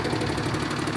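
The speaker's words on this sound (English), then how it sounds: "Motor's ticking really, really good. She's warming up." A diesel pusher motorhome engine idles steadily while warming up, a close, dense and even rumble with a faint rhythmic ticking throughout.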